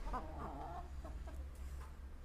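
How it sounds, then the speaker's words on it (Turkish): Chickens give soft, low clucks in a few short bursts, close by, over a steady low background hum. "Gördüğünüz gibi iki tane tavuğum var."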